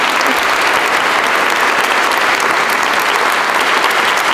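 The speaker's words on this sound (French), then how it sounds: "Veuillez applaudir pour les mariés." Steady, dense applause from a wedding crowd at an abbey, loud and continuous throughout with no breaks.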